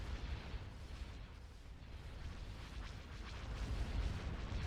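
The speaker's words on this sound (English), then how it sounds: "All batteries commence firing." Super Star Destroyer batteries, including the Lusankya's, fire in a Star Wars Thrawn's Revenge space battle: a continuous low rumbling barrage of booms and bursts, building slightly louder toward the end, with no talking.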